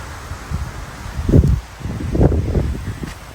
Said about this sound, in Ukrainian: Такий вітер піднявся, що то взагалі.